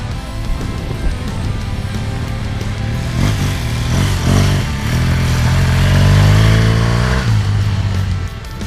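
A motorcycle pulls away on clutch control with no throttle during a South Africa adventure ride near Parys, a loud close engine rumble that rises gently and then settles, with some wind and clatter.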